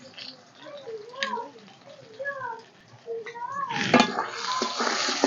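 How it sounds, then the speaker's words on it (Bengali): Potatoes frying in oil for a river-fish curry: a voice talks at first, then a loud, steady sizzle with some clatter rises through the second half. "আলুটাকেও লাল লাল করে ভেজে নেব"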